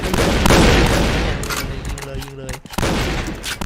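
Gunfire from the video game Point Blank: loud rapid bursts of shots, dense and continuous at first, then a short gap and another burst near the end, with no talk.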